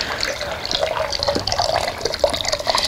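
Hands dipped one after the other into a basin of cold water for a Kneipp arm bath, giving soft close sloshing and trickling with small splashes, steady and moderately quiet.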